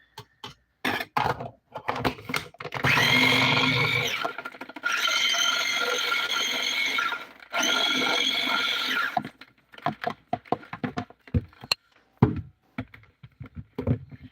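A small food chopper grinds dehydrated potatoes in three loud, steady whirring bursts of a few seconds each, separated by pauses, with clicks and rattling handling noises before and after.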